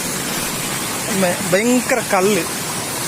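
A waterfall on a trek to a hill station, giving off a steady broadband rushing roar that fills the whole clip while someone talks over it.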